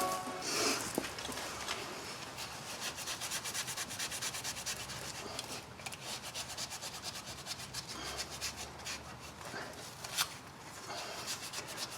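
Steady abrasive sanding on a rear brake part from a 2012 Nissan Altima 2.5L, a continuous rough scrubbing with brief pauses and varying pressure across the whole stretch, close by and with no talk.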